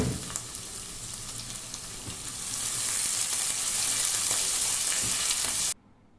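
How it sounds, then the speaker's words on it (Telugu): Chopped onions with finely chopped green chillies frying in oil in a pan for a broad beans curry, giving a steady, close sizzle that swells louder midway and cuts off abruptly near the end. "ఉల్లిపాయలు కొంచెం కలర్ చేంజ్ వరకు కూడా వేయించుకోండి."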